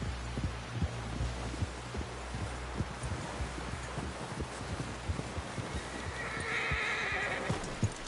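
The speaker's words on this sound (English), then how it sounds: "Someone help John down off this horse" In the Red Dead Redemption 2 video game, a horse whinnies loudly while its hooves clip-clop steadily nearby, with a low throbbing rumble beneath.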